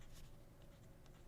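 A fountain pen scratches softly across thin Tomoyo River paper, faint close strokes in short bursts over a quiet background.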